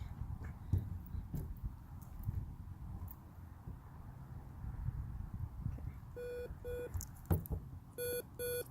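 An e-collar's paired sound box emits a series of short, evenly spaced electronic beep tones, heard near and clear over a quiet background.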